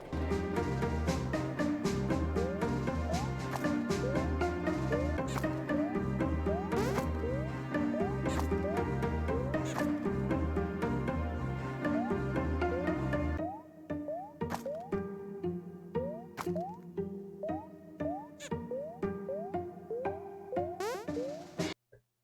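Game sound effects from a small jam game called I Wanna Die, a busy stream of bouncy boings, blips and short pitched chirps over a dense chiptune-like backing that drops out partway, leaving sparser effects and tones.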